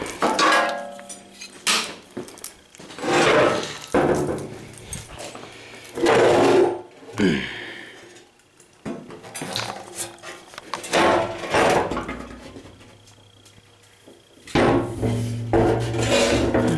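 A tacked-up steel truck bumper for a 1990 Dodge D350 Cummins is flipped over in a workshop, giving a series of heavy metallic clanks, bangs and scrapes with pauses between them, close by.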